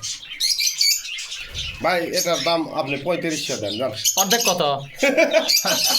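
Pigeons in a loft at a pigeon sale give scattered chirps and squawks beneath close, continuous bargaining talk.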